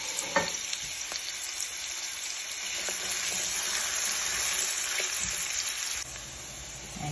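Onions sizzling in a pan where salted fish has been frying, a loud, steady, hissing crackle up close that drops slightly near the end, with no talking.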